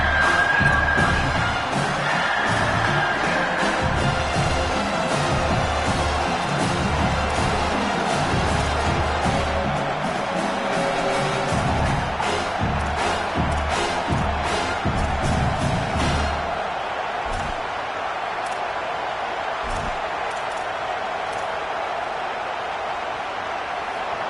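A home crowd cheers in the College Football 27 video game, loud and sustained, with shouts and whoops rising over the roar. After about sixteen seconds it drops to a quieter murmur.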